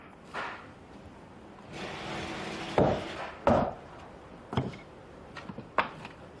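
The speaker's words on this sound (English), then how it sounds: "These sections are trimmed with a kidori knife." A kidori knife trims split, straight-grained masame wood sections for kokera shingles in Japanese wooden shingle roofing: a few sharp, close wooden knocks and cracks at uneven intervals, with a stretch of rough scraping between them.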